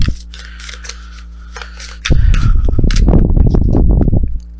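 Tarot card drawn from the deck, a quiet papery swish followed by a loud, sustained shuffling and rubbing of cards close up over a low background hum.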